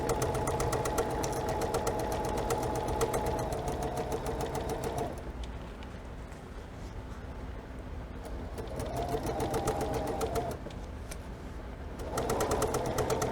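A domestic sewing machine stitching quilt fabric, a fast steady mechanical whir that runs, pauses briefly with a quieter hum, then starts up again close by, with no talking.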